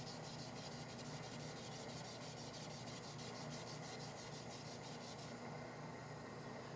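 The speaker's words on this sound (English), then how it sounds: "I go ahead and take the tape off and I do 400 grit" Steady, continuous abrasive rubbing of 400 grit sandpaper on a cherry wood yarn bowl, a dense hiss with a faint rhythmic pulse that eases in the final second, unbroken throughout.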